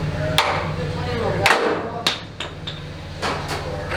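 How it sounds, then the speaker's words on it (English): Several sharp hammer blows ring out at uneven intervals, fairly close, over a low steady hum, breaking a part during car repair. "Use a hammer and just break it."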